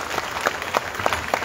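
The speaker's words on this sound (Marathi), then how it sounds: "एकदा टाळ्या वाजवा त्या बर्गेच्या मुलाकरता सांगतो" Applause from an audience at a Jijau Jayanti celebration event, a fairly close patter of clapping that keeps going steadily with a few sharper claps standing out, and no voices heard.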